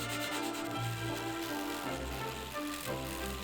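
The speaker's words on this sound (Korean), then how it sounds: "마무리는 스틱 사포로 부드럽게 갈아줍니다." A stick of sandpaper rubs back and forth over a wooden mosquito coil holder, a steady close scratching with an even rhythm of strokes and no voices.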